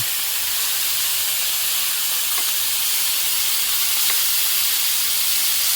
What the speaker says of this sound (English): Just gonna sear them